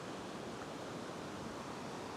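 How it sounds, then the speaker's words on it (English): Ocean surf rushing onto a fishing beach in rough conditions, a dense, even wash of water noise holding steady throughout with no voices. "Every now and then a bigger wave comes in and breaks there"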